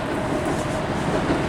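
Paris Metro Line 6 train running steadily close by, a continuous rumbling roar with a faint rhythmic rattle of carriages and no voices.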